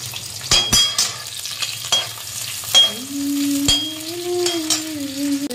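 Green chilies sizzle as they fry in oil, a steady crackle broken by sharp clinks of a utensil against the pan, with a rising whistle-like tone joining near the end.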